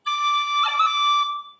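A high D roll on a tin whistle, with a sustained high note broken by quick ornamental finger flicks in the middle, played close and alone.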